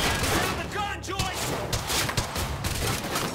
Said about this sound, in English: Stop fucking shooting at us!